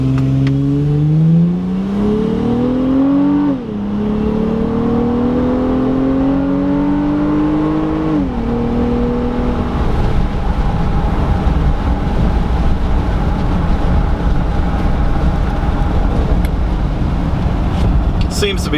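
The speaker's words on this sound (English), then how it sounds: "smooth delivery of sound out of the exhaust system" A 2018 Honda Ridgeline pickup with an aftermarket Magnaflow exhaust idles and revs close up at ear height, rising and falling in several throttle blips before settling into a steady loud rumble.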